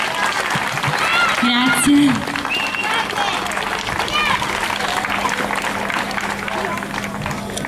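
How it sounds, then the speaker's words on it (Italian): Audience applause for a singer at a local event, a steady crowd clapping throughout with voices and cheers mixed in; a person speaks briefly over it. "Un bel applauso!"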